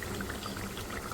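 Fried eggs slipped into a creamy egg korma gravy in a pan, a brief wet pouring and sloshing sound lasting about a second, close and steady, with no talking.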